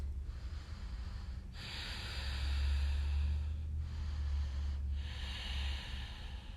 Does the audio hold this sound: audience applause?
no